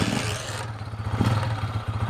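A motorcycle engine with a freshly fixed carburetor idles in close, uneven chugging pulses after starting, with a brief rev near the middle and light mechanical clatter, and no voices.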